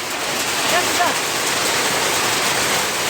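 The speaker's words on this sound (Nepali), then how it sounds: "ल त्यत्रो ठुलो पानी परिरहेछ" Steady, dense rain hisses continuously, loud and close, with no breaks.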